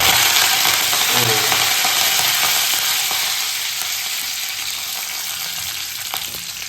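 Mustard seeds, cumin and curry leaves crackle in hot oil in a pan for okra bhaji, a loud, dense, continuous sizzle that eases slightly over time.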